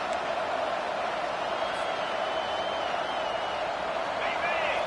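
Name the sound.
stadium crowd roaring at a college football game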